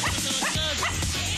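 A small female dog gives short yips and whimpering barks at a lively children's television event, close and repeated, mixed with crowd noise and faint talk.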